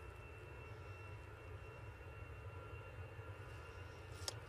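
An EasyJet airliner bound for Reykjavik takes off, a faint distant jet rumble holding steady in the background with a brief click near the end.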